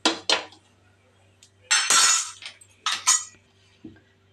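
A kadai is set down on a stove among clattering kitchenware, several sharp metallic clanks and clinks in short bursts separated by quiet pauses, close and fairly loud.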